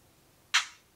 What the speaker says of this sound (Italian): è il rumore di scatto